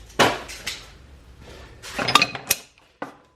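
Old U-joint bearing cap from a 1973 Camaro tossed into a garbage can, with a sharp metallic clatter and a few clinks and bounces, close and fairly loud, followed by a last small knock.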